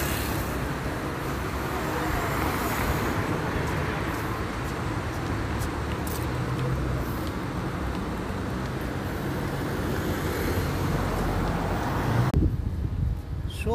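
Steady roar of highway traffic rushing past at night, a continuous broadband wash of tires and engines with wind buffeting the microphone, cutting off abruptly near the end.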